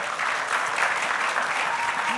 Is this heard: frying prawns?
no